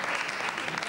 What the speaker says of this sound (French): derrière une assistante qui est payée pour applaudir